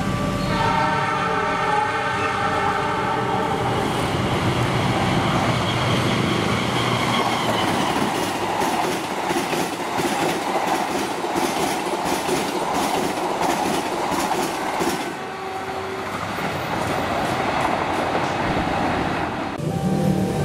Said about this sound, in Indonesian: Berikutnya, kereta api Argo Parahyangan 41B.